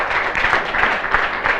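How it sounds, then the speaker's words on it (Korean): Loud, close clapping from an audience at a business presentation, an uneven pulsing patter of hands that carries on without pause and with no voices over it. "큰 박수 쳐주셔야 돼요."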